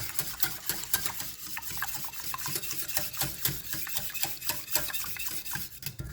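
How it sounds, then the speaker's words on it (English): Ceremonial cacao is whisked briskly in a vessel, giving a close, rapid, rhythmic scraping and swishing that continues steadily without any voices. "Just keep whisking."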